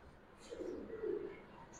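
Pigeons of the Giribaz breed coo softly in a low, rounded murmur that swells midway, fairly faint and close, with a few light chirps above and no speech.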